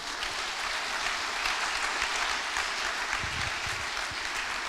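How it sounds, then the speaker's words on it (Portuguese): A church congregation claps together during a worship service, a steady, dense wash of many hands sustained throughout at moderate level, with a few faint voices mixed in. "Vamos aplaudir Jesus"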